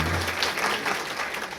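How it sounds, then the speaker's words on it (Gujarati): An audience at a devotional gathering claps together in a dense, steady burst of applause, close and fairly loud, with no talk over it. "તાળી જ પાડો."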